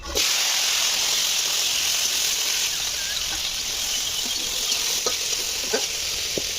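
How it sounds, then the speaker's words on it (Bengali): Drumstick stems fry in hot oil in a wok, giving a loud, continuous sizzling hiss with occasional small pops and spits throughout, no voices over it. "এবার কড়াই তেল দিয়ে দিলাম, দিয়ে ডাঁটাগুলো আগে ভালো করে ভেজে নেব"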